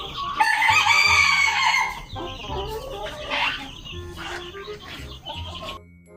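Chickens on a small Thai-Lao backyard poultry farm cluck steadily while a rooster crows loudly up close at the start, with more clucking and bird calls continuing after.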